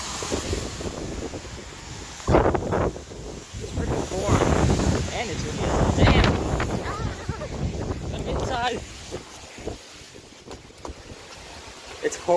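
Strong thunderstorm gusts roar and buffet the microphone continuously, swelling and fading, with a voice briefly speaking over the wind, in Rotterdam, New York.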